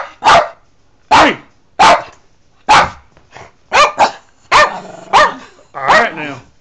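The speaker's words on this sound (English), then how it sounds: "how can I take your picture with you barking?" A dog barks in seven sharp, loud, close bursts spaced roughly a second apart, the later barks rougher and more drawn out, with no talking in between.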